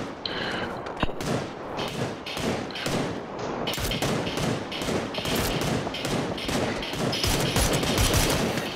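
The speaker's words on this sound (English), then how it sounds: "they're shooting at you from the orange ridge again." Rapid gunfire in the battle-royale game PUBG, loud close shots firing in quick repeated bursts with thudding impacts, continuing steadily throughout.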